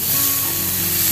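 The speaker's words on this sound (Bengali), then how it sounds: "একটু ভালো করে নেড়ে চেড়ে ভেজে নিতে হবে" Mustard greens are stir-fried in a pan, giving a brief, loud, steady sizzle heard up close with no voices.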